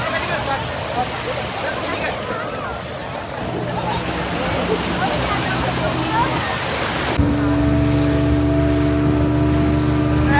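Floodwater rushes at Shivrajpur bridge, a loud continuous roar of fast-moving water with a steady engine-like hum joining partway through, and people talking nearby.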